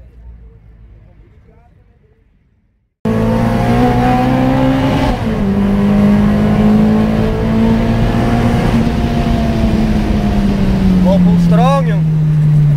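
A Nissan car fitted with an SR20VE engine pulls away after a quiet start, its engine roaring loud and sustained from inside the cabin with climbing pitch through the gears, while people talk over it.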